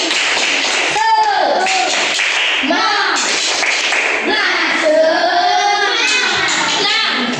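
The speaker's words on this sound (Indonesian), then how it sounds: "Ayo tepuk semangat dulu yuk." A fifth-grade class in an Indonesian primary school performs a rhythmic clapping chant led by their teacher, with sharp hand claps woven through loud, lively children's voices chanting together close by.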